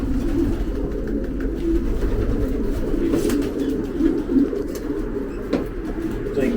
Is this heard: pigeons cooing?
yes